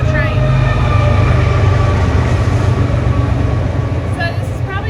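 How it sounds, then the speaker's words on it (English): A train rumbles past close by outdoors, a loud steady low roar with rolling wheel noise filling the whole stretch, and faint squealing tones near the end. "Here comes another train."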